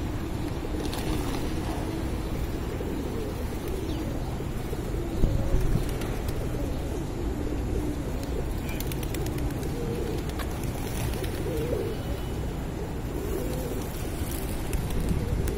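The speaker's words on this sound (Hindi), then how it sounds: "और कबूतर उसकी तरफ मुतवज्जे हैं।" Pigeons being fed grain coo softly in the background under steady outdoor wind and ambient noise at Batu Caves, Selangor, Malaysia.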